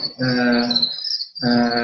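A steady high cricket chirp carries through at an insect farm, running under a voice that talks across most of the clip.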